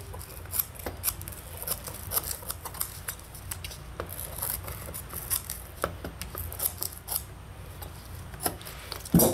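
Blade trimming the vinyl lid cover material along the edge of a Chevy/GMC center console, a quick run of small, dry snipping and scraping clicks close up, with no talk.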